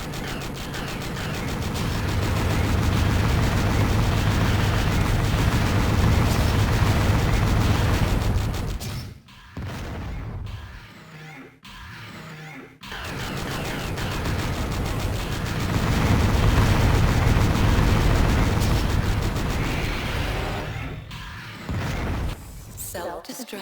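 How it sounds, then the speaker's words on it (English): In the Descent video game, missiles and Gauss cannon fire in sustained, dense, loud bursts of blasts and impacts, break for a few seconds into choppy fragments, then resume heavily. "Missiles and Gauss, baby."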